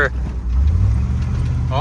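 A GMC K2500 pickup farm truck with drum brakes accelerates hard at full throttle, its engine rising into a loud, swelling low roar close by, while people talk inside the cab.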